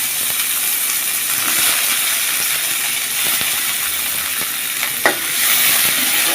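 Chopped onions fry in a pan of oil for a Bata fish curry with papaya, giving a steady, fairly loud sizzle with occasional clicks and scrapes of stirring.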